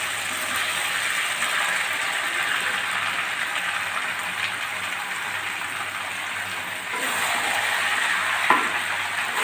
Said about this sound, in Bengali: এবার আমি সিদ্ধ করে রাখা এঁচোড়টা দিয়ে দিচ্ছি।